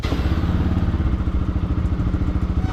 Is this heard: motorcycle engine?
yes